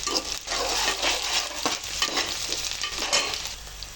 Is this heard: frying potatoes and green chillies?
yes